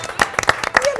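A short burst of studio-audience clapping on a television talk show, a few loose, uneven claps for a guest who has just sat down, with a voice over them.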